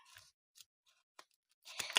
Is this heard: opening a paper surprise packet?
yes